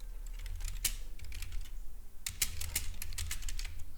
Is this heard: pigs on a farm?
no